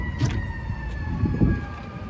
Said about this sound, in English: an ambulance or fire truck, whatever it is coming through here